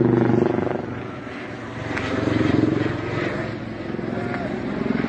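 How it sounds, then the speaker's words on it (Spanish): Two helicopters flying overhead above the Senkata plant in El Alto, a continuous rotor and engine drone that swells and fades slightly, with voices faintly underneath. "La planta de Sencata están sobrevolando aquí 2 helicópteros."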